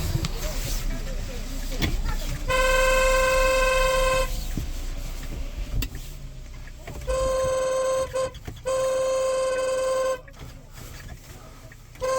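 A car horn honks in several long sustained blasts, with pauses between them, on a street in Bucha, Ukraine, while people talk in the background.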